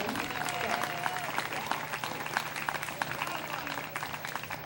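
Audience clapping at a university family day event, a sustained round of applause with some cheering mixed in and voices talking faintly beneath.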